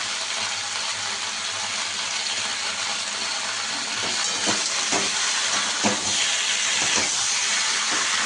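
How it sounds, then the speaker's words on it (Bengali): Katla fish pieces and lentil dumplings sauté in a hot pan with a loud, steady hiss of sizzling oil. A few short stirring clinks and scrapes come through near the end, with no talking. "এবার এই মাছগুলো বড়িগুলোর সঙ্গে দিয়ে আমি কষতে নেব"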